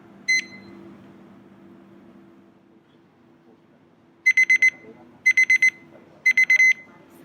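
A laboratory timer, set during a peripheral blood film preparation, sounds three clipped bursts of sharp electronic beeps, each a quick run of four or so pulses, after one lone beep and a low steady hum.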